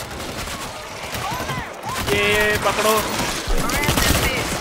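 Dense bursts of automatic gunfire rattle through a World War Z zombie battle, loud and sustained, with people talking excitedly over the shooting.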